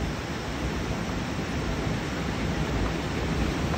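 A water-powered ghatta grain mill grinding wheat, maize and millet runs with a dense, constant roar of rushing water and machinery, loud and unbroken, with no speech.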